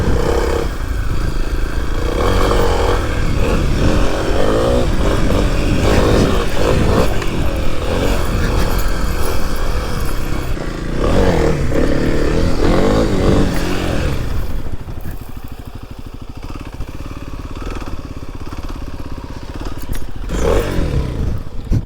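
A Kawasaki KLX300 dual sport motorcycle rips along off-road trails, its engine droning loud and continuous with rising and falling revs and a brief easing of throttle partway through.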